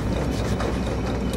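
Gears in Amnesia grind and click steadily, a ratcheting mechanical churn that stays loud and even throughout with no voices.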